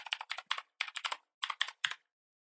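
Quick bursts of keystrokes on a computer keyboard, typed in short clusters with brief pauses between, close and clear with no talking.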